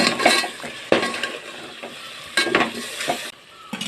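Tomatoes added to cooked rice sizzle loudly in a pan, close up, with repeated scraping stirs of a spoon against the metal breaking up a steady frying hiss.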